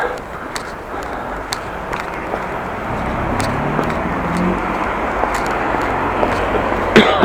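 Cars travel along a street in Groningen, heard as a steady, moderately loud wash of road traffic with a few passing swells, heard from the roadside with no voices.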